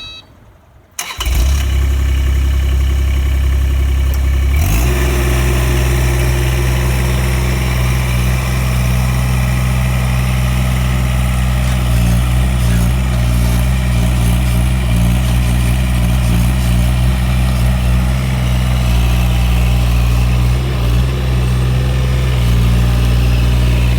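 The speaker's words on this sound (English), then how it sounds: "Just going to turn on the excavator and begin." An excavator engine cranks and fires after a short quiet start, then settles into a loud, steady diesel idle with a deep rumble and a continuous drone that lasts to the end.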